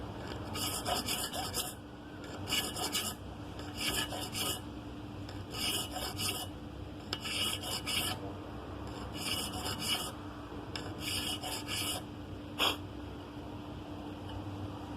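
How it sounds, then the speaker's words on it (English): A hand file rasps a wooden dovetail down to its scribe line in repeated strokes: about eight bursts of scraping, each a second or so long, separated by short pauses, close and clear with no talking. "just very carefully file down to the scribe line"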